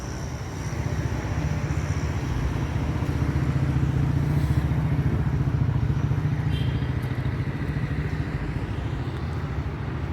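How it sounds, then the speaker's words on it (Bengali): Motorcycles in a flag-waving street rally in Chhatrapati Sambhaji Nagar (Aurangabad) give a steady, close engine rumble that swells and eases slightly as they pass, with no speech. "বাইকে বাইকে শিবাজি মহারাজের ছবি দেওয়া পতাকা নিয়ে র্যালি বেরোচ্ছে দিকে দিকে।"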